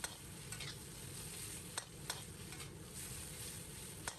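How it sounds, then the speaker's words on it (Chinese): Green beans and shredded pork stir-fried in a wok over high heat: a continuous sizzle broken by a few sharp clanks and scrapes of the spatula against the wok. "开大火快速翻炒均匀"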